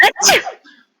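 A single sharp sneeze, loud and close, followed by a brief faint trailing sound.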